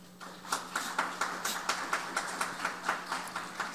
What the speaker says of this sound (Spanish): Demos la bienvenida a nuestros participantes con un fuerte aplauso.